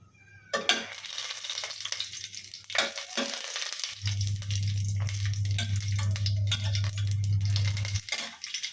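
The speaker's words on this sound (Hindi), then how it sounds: "तेजपत्र पकेवा तापरे किछि गोटा मसला के भाजिला परे" Whole spices and a bay leaf fry in hot oil in a pan, a steady close sizzle with stirring and scraping of utensils against the metal.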